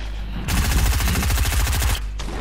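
Rapid bursts of blaster gunfire from a Star Wars stormtrooper video game crackle loudly and continuously for about a second and a half, then cut off abruptly.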